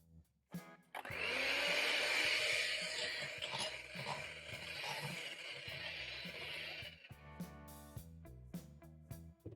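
An electric mixer whips icing sugar and margarine in a bowl, starting with a sharp switch-on and then whirring loudly and steadily before easing off, with clicks and scraping at the end.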